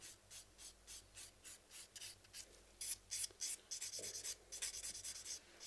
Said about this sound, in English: 240 grit file again, really soft, because it's pointless soaking that bit.